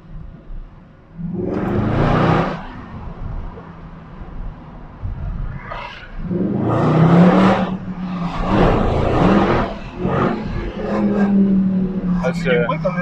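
Mercedes C63 AMG Pack Performance engine revving loudly in bursts, several separate roaring pulls with pauses between, while people talk in French over and between the revs.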